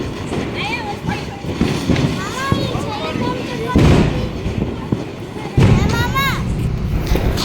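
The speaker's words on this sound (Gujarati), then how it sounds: "અમારા ભાણીબેનને બીક લાગતી હતી પણ તોય ફટાકડા ફોડી નાખ્યા" Firecrackers burst during Diwali celebrations, with two sharp, loud blasts standing out amid steady background commotion while children chatter and call out nearby.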